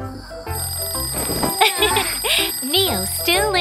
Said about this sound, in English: The alarm's ringing.